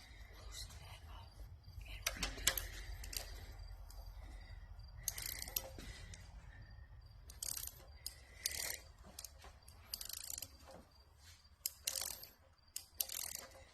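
A ratchet clicks in quick bursts while turning over a 454 big block Chevy engine during rocker setting, the close, fairly quiet ratcheting repeating in short runs with brief pauses between strokes.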